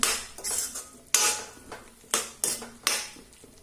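A metal spoon scrapes and knocks against a cooking pot of chilli-tomato curry as it is stirred, giving five or six sharp, close clanks at irregular intervals over a faint background.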